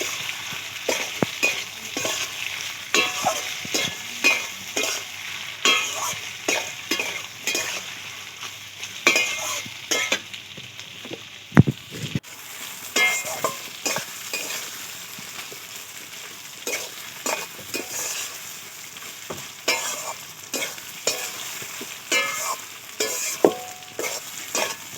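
Chicken pieces being stirred together with onions in a kadai, village-style, a spoon or spatula scraping and knocking against the pan in irregular strokes over a soft, continuous sizzle, close and without talk.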